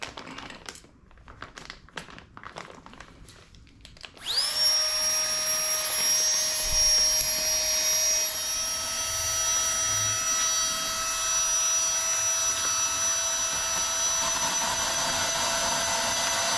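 A small electric GIGA PUMP 2.0 air pump starts abruptly and runs with a steady, high-pitched motor whine and hum, close by, after a few light clicks and handling noises.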